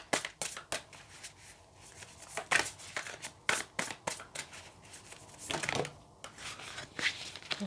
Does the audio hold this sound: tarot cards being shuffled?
yes